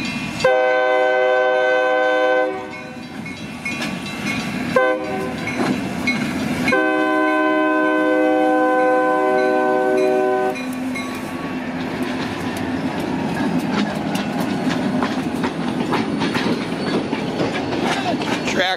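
A train rolls past with its locomotive sounding a long, loud horn in two blasts, followed by the steady rumble and clatter of railcars passing close by.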